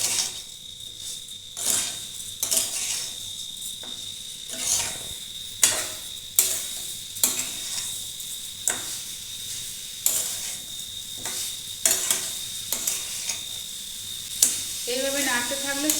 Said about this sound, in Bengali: এবার আমি নারকেল আর চিনি একসঙ্গে নাড়তে থাকবো